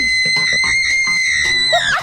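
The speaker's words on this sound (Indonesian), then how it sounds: "Berhenti berteriak seperti orang gila." A person screams in a high, strained voice, sustained over about two seconds with wavering pitch that slides down at the end, loud and close.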